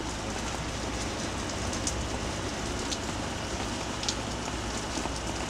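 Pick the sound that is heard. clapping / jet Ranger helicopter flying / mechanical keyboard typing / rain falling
rain falling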